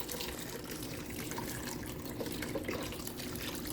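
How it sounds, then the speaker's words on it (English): Water pours steadily into a Ninja Speedi cooker over uncooked pasta for baked ziti, a continuous close splashing rush that stays at an even level throughout with no talking. "Now I'm going to add some water till I know that all that pasta is covered."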